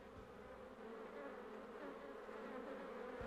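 A scout honeybee buzzes in a steady, fairly quiet drone that holds throughout without pause.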